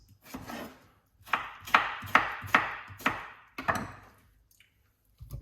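Knife chopping cucumber on a kitchen board: a series of crisp, close chops in uneven bursts, about six to eight strokes with short pauses, no voices.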